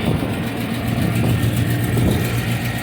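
A Geo Tracker engine idles in neutral at about 1500 rpm, a steady, fairly loud mid-pitched running hum and rumble heard up close with no voices.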